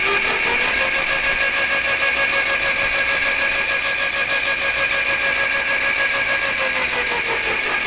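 An engine held at full power by a thumb throttle drones loudly and steadily at high revs for the whole stretch, a constant buzzing whine with no change in pitch and no voices.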